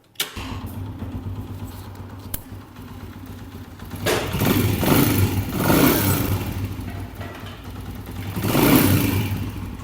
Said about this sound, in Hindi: अब बाइक को स्टार्ट करके इसके टैपट की नॉइस जो है वो चेक करते हैं।